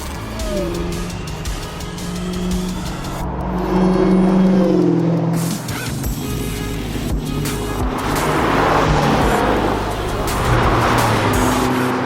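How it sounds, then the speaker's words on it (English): A truck's engine roars past up close on a rally road, heard from inside a Subaru WRX, swelling then fading, with road rumble and wind noise throughout. "that's a truck coming down."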